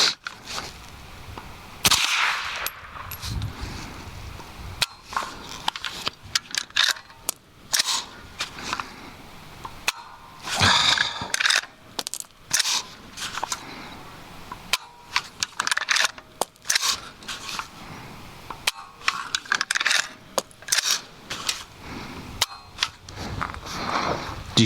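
Subsonic 300 Blackout rounds fired from a radial delayed rifle, a string of sharp, fairly muted cracks at irregular intervals over outdoor background noise, with some brief talk mixed in.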